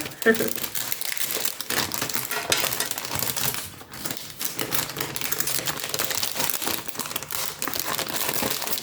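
Paper packaging from a Temu craft-supply haul crinkles and rustles close by in busy, irregular bursts of crackling that continue throughout.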